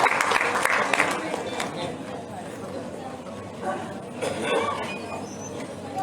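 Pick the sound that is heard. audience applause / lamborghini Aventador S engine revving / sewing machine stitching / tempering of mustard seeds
audience applause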